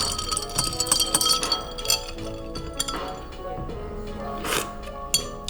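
Ice cubes clink against a glass as a drink is stirred, a cluster of bright, close rattling taps with a few sharper knocks scattered through.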